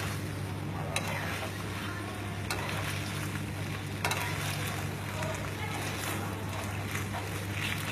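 Steady crackling sizzle of food frying crisp in a pan while making carbonara, continuous and close, with occasional louder pops and clatters.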